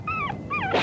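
A dog whimpers in two drawn-out, falling whines while being beaten, loud and close, followed by a brief burst of harsh noise.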